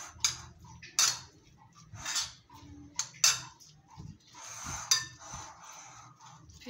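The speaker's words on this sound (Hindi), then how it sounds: "इन सबको पहले अच्छे से मिक्स कर लें।" A spoon clinks and scrapes against a bowl as onion and tomato are mixed for raita, giving irregular bright taps and soft stirring rustles, close by and with no talk.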